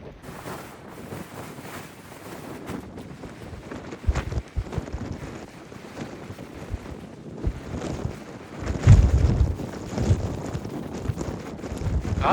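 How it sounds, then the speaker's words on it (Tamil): Strong wind gusting over a hilltop lookout above the Marseille port with a ship at dock, a steady loud rush buffeting the microphone with heavier blasts near the end. "காற்று ஆளே தள்ளுது."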